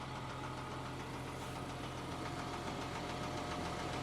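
Military truck engine running steadily after a pull start, a continuous close rumble with a knocking, vibrating idle and no talk.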